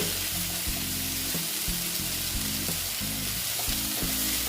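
Small mourala fish frying in hot oil with turmeric give a steady, loud, close sizzle that runs unbroken throughout, with repeated low knocking pulses like a utensil stirring the pan, and no voices.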